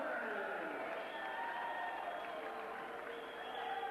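Basketball arena crowd at a 1988 all-star game roaring and applauding after a dunk, a steady dense wash of cheers and clapping that swells and holds throughout, with announcer-like voices mixed faintly underneath.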